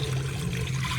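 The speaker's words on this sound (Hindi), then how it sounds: "डाल लेते हैं जी पानी।" Water poured steadily into a cooking pot for matar pulao, a continuous splashing pour heard close and alone for the full second.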